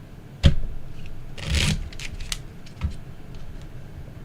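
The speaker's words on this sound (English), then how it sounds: "I'll shuffle it again." A deck of playing cards being shuffled by hand at a pub trivia table: a sharp riffle snap, then a longer rustling riffle and several softer card taps and slides, close and fairly quiet with no talk.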